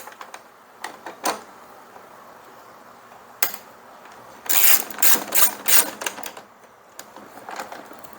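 Ratchet clicking while tightening the wheel nut on a Craftsman mower, with a few scattered clicks at first and then a quick run of loud, close ratcheting strokes.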